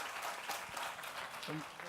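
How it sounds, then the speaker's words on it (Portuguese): Applause from a church audience, dense and steady, with some voices briefly audible over it near the end. "Vamos dar mais um forte aplauso aí?"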